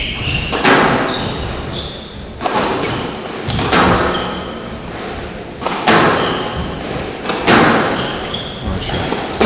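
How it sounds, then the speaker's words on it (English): Squash ball strikes and wall thuds in a men's Challenger Tour rally, sharp smacks coming every second or two at a steady pace, with squeaking shoes on court. "Very nice rally here on the forehand side."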